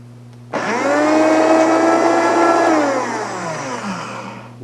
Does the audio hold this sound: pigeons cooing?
no